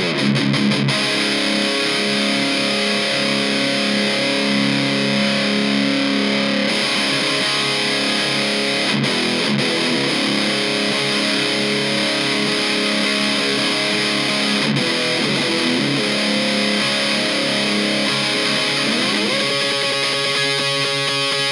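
Electric guitar played through a Kokko KH8 high gain distortion pedal, a thick, saturated metal tone with sustained chords ringing loud and continuous without talk.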